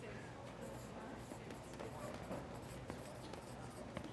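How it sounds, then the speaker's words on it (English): Pen or marker writing on a board or paper during a talk, a faint scratchy scrawl of short strokes under background room noise and speech. "I'm going to write here."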